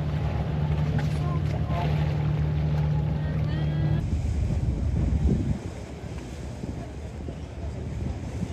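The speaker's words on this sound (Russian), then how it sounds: "Смотрите, это моя яхта." A yacht under way on open water in wind, with a steady wash of wind buffeting and water noise throughout, a low engine-like hum in the first half, and no speech.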